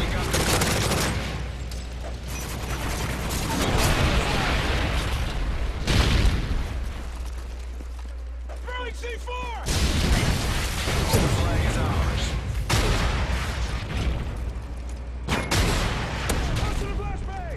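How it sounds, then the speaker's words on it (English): Rocket launcher blasts and booming explosions from a Call of Duty Modern Warfare 3 team defender match, loud and dense, with repeated sharp bursts amid continuous gunfire, a brief lull around the middle, and talk running throughout. "that rocket launcher. I love using it"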